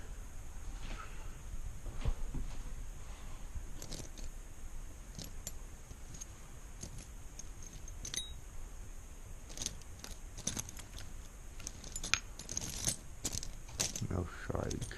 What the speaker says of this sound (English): And there's all the keys